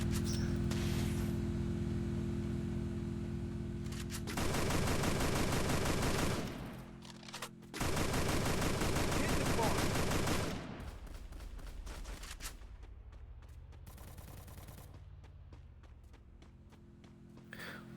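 Gunfire in the Free Fire battle royale game rattles out in long, loud bursts of rapid automatic shots, with sustained volleys broken by short gaps and ending in sparser, fainter firing.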